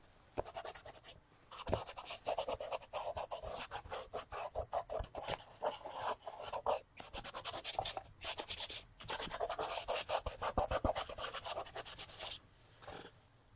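Paint being rubbed by hand into a faux leather journal cover, giving a rapid, continuous scratchy rasping with short pauses, close and fairly quiet, with no voices.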